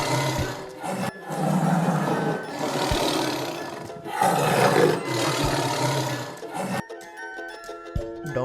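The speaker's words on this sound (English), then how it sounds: "tiger माने चीता." A tiger roaring in several long, deep, rumbling bursts with short breaths between, loud and close, followed by a brief quieter musical tail.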